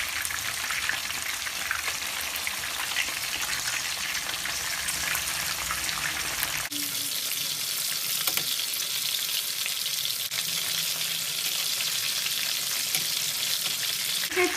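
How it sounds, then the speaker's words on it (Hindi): Chicken fries in oil over a medium flame, giving a steady, close sizzle with crackling and spattering throughout, dropping slightly in low rumble midway but staying dense and continuous. "अब मैं मीडियम करके इसको फ्राई करूंगी ताकि चिकन हमारी अंदर से गल जाए।"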